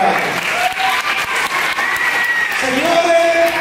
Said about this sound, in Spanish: Muchas gracias, un aplauso para él.